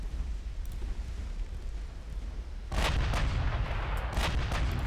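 Naval guns aboard the battlecruiser Hood fire high-explosive shells in a 1930s-era naval strategy game. A low, rumbling background suddenly breaks into heavy booming blasts that roll on loudly, with no speech.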